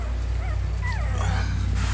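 Young red puppy from a litter gives a few soft whimpers and high yips, close to the microphone over a steady low hum, with no talking.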